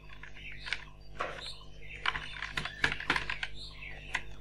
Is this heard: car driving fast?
no